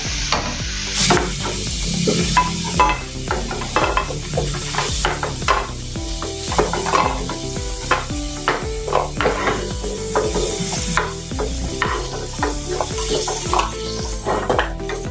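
Potatoes fry in hot oil in a pan for a turai and aloo sabzi, giving a loud, continuous sizzle with repeated stirring clatter of a utensil against the pan.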